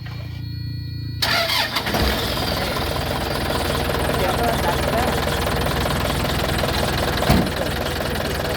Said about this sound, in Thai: สตาร์ทเครื่อง นะครับ